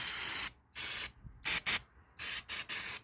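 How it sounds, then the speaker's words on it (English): Short bursts of aerosol spray hiss in quick succession as supplemental fuel is sprayed from a can into a truck engine, some long and some clipped, loud and close with near silence between them. "Let's spray a supplemental fuel in there and see what happens."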